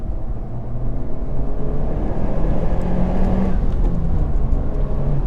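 A Honda Civic Type R FK8 Limited Edition engine hums from inside the cabin, its tone climbing briefly in a quick automatic rev-matching blip on a downshift before settling back to a steady drone.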